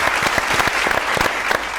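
An audience at a music competition bursts into loud, close applause, crisp individual claps standing out within the dense crowd clapping, sustained evenly throughout.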